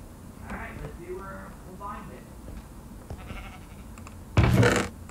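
Sheep bleat a few times in a Minecraft-style video game, short nasal calls over a steady game background, ending with a sudden loud burst of noise.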